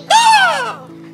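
A human voice imitates a crow with one loud, close, drawn-out caw during a children's Bible lesson, over a faint steady hum.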